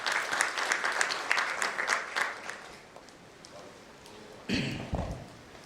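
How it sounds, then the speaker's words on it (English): A conference audience applauds as Atul Joshi is welcomed on stage, clapping strong for about two seconds and then fading, followed by a few brief louder noises. "With a huge round of applause, ladies and gentlemen, please welcome Mr."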